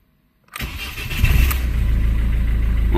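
A Ford Focus with an immobilizer fault starts on the key after half a second of silence: a brief starter whir, then the engine catches and settles into a steady, close idle.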